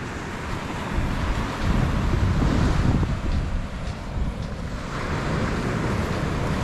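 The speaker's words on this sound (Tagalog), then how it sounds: "Tignan mo ang dagat to." Wind gusts and ocean surf wash steadily at a cold winter beach, a broad loud rush with waves swelling and easing throughout and no talking.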